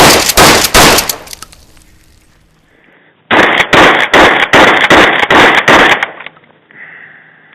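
A Remington 870 shotgun fires a few loud blasts, then after a short pause a rapid string of about eight sharp, booming shots in quick succession, each with a brief crack and decay.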